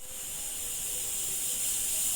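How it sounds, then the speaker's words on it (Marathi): A pressure cooker holding matar paneer lets off steam in a continuous loud, even hiss that swells slightly over a couple of seconds. "आता आपल्या कुकरच्या शिट्ट्या झालेल्या आहेत"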